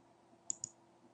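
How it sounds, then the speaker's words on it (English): Two quick, faint computer mouse clicks close together over a quiet room hum, with no talking. "Click on the commit you want to go to, right click."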